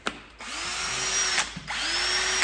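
A power drill whines in two sustained bursts while drilling out a Russian-threaded metal fitting on an OT-64 SKOT armoured car, its pitch rising as it spins up, with brief clicks between runs.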